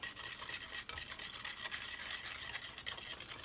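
Cookie batter being stirred in a bowl, a soft, steady scraping and mixing texture close by, quiet and continuous with faint clicks from the utensil.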